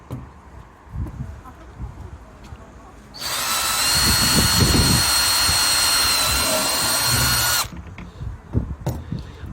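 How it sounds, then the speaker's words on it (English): A power drill with an 8mm metal bit bores a hole during winter allotment work, a loud steady whine running about four seconds alone before stopping abruptly, with quieter handling noise before and after. "I'll have to drill a bit of a hole in it."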